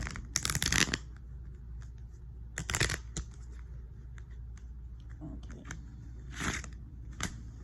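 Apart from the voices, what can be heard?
shuffling tarot cards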